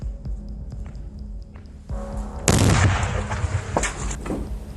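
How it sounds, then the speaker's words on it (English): Small bomb dropped by a drone exploding on a hiding place during fighting in Ukraine, a single sharp blast erupting out of low background rumble and ringing off into a rough, noisy decay. "the Ukrainian forces dropped a small bomb on their hiding place"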